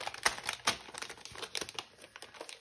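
Plastic packaging crinkles and rustles in close, irregular bursts while scrapbooking supplies such as off-brand pens are unboxed, with no talking.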